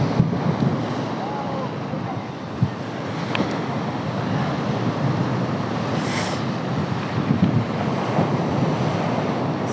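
Big mid-August tide waves roll and wash along the shore in a constant loud roar, with wind buffeting the microphone throughout.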